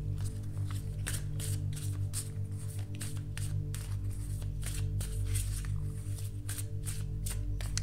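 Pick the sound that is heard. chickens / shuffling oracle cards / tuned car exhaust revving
shuffling oracle cards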